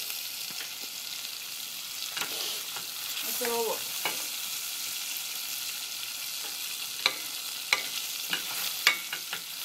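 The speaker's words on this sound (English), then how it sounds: "I like to saute the pepper a little bit." Peppers sizzle steadily in a hot pan, with a spatula scraping and stirring now and then and a few sharp pops.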